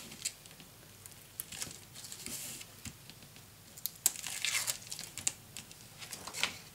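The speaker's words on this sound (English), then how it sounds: "Peeling this off." Paper backing sheet peeled off a sticker or adhesive while making a mini scrapbook album, heard as soft crackles, rips and crinkles, close and fairly quiet, with an uneven rhythm that gets busier toward the end.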